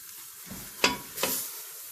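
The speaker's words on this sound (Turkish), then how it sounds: "Kıymamızı güzelce karıştırarak kavuruyoruz" Minced meat is stir-fried in a pan, with soft sizzling and two brief scraping stirs of a utensil, close and moderately loud, no voices.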